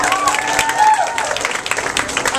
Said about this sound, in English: Let's give Alex a warm round of applause.